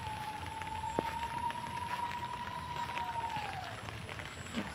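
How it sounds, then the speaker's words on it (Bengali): Steady rain falling outdoors at evening during a prolonged downpour, a continuous even hiss of drops throughout with a faint tonal whistle in the background, no talk. "সারাটা দিন তো বৃষ্টি"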